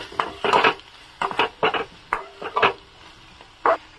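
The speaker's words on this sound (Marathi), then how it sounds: "हे मसाले चांगल्या प्रकारे मिक्स करून घेते." Spoon stirring turmeric and other spices in a pan, giving a series of close, uneven scraping and clinking strokes in irregular bursts with short pauses between, over a faint background sizzle.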